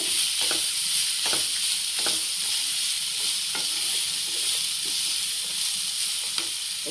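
Green chillies fry in a pan on a low flame with a steady soft sizzle, and a spoon scrapes and stirs repeatedly against the pan, with no voices.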